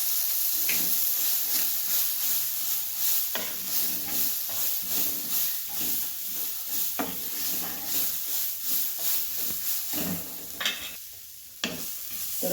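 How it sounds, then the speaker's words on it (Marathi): Sprouted moth beans roasting in oil in a pan, a steady loud sizzle and hiss with repeated scraping stirs of a spatula throughout. "थोडंसं तेल होतं बघा तेल ओतून भाजूया मटकीचे मोठ"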